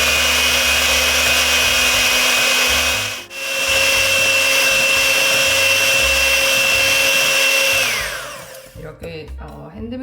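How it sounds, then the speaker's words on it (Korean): A hand mixer whips eggs and sugar in a warmed bowl for a Boston cream pie sponge, a loud steady motor whine that stops briefly after three seconds, resumes and winds down near the end. "이제 핸드믹서로 휘핑하는 과정이 지겹게 느껴질 수도 있는데요."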